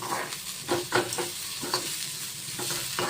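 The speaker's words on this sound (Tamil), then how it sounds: "நான் இப்போ பெரிய ஸ்பூன் எடுத்து வதக்கிறேன்" An onion chutney being sautéed dry, with almost no oil, using a big spoon: a close, crackling sizzle broken by repeated scraping stirs at an irregular pace, with no speech.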